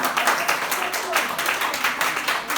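A live comedy show audience clapping, a dense, loud patter of many hands with rhythmic surges, continuing steadily throughout.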